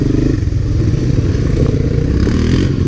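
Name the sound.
Honda Big Red three-wheeler ATV riding on trail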